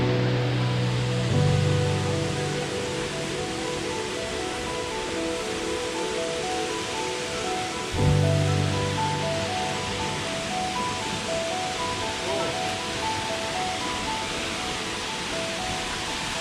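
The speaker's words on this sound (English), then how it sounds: "the largest waterfall, the tallest waterfall in Georgia, Toccoa Falls" Toccoa Falls, Georgia's tallest waterfall, pours as a steady, broadband roar that fills the scene from start to finish, with a couple of brief low thumps near the start and midway.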